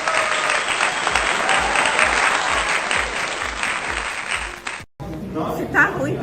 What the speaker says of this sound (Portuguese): Uma salva de palmas para a Janja.